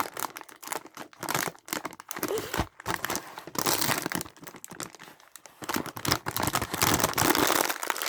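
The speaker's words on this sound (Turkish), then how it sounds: "Ee, hemen açacağım paketi." Crinkling and tearing of a plastic wrapper on a package of mini chocolate wafers being opened, close and continuous with bursts of crunchy rustling, no talking.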